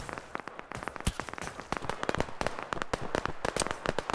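Dense crackling bursts of gunfire in a multiplayer match in Operation Harsh Doorstop, modern insurgents against a World War II US Army, with rapid irregular shots overlapping close and near-continuous.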